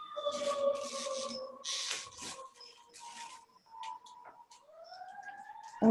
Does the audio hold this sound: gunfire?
no